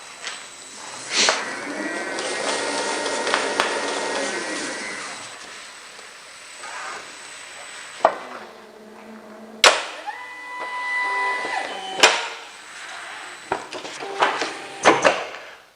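A NEPATA UA770 label converter runs a job, with mechanical whirring, winding tones and sharp clicks and clunks at irregular intervals, fairly close and without talk.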